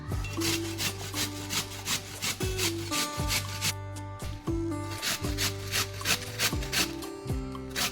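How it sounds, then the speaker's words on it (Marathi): Cabbage being shredded on a hand grater at home for Manchurian fritters: steady, repetitive scraping strokes with a woody rasp, close and continuous, with a faint musical bed underneath. "आपल्याला किसणीने किसून घ्यायचं आहे"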